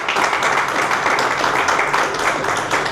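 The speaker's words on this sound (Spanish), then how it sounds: "¿Quiere darle un fuerte aplauso a nuestro Señor?" A church congregation applauds during a sermon, a steady, moderately loud patter of many hands clapping together with a faint murmur beneath it.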